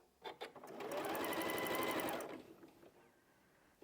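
A sewing machine runs a steady burst of stitching through quilt pieces, close and fairly loud, starting after a few brief clicks and stopping after about two seconds, with no talking.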